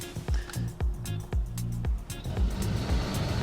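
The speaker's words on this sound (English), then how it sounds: "the wheels are spinning a lot more" A 2021 Nissan Rogue SUV stuck in off-road mode, wheels spinning, with repeated thumping surges and a strained engine drone rising and falling in quick pulses.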